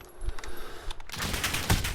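AN-94 rifle firing in Call of Duty Modern Warfare, a dense rapid volley of loud close shots filling the second half after quieter clicks and handling.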